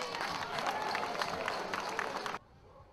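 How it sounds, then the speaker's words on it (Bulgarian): Audience at a rock festival in Ruse claps loudly for a band, a dense sustained wash of applause and crowd noise that cuts off abruptly near the end. "аплодисменти за тях!"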